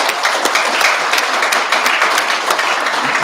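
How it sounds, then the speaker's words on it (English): Dense, steady applause from an audience at a Coast Guard Auxiliary District 13 change of watch and awards ceremony, loud and continuous with many hands clapping at once. "let's just give another round of applause for folks."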